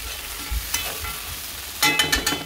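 Dry fish and potatoes stir-frying in spices for a Sylheti shutki curry, a soft steady sizzle with a run of spatula scrapes and clacks near the end.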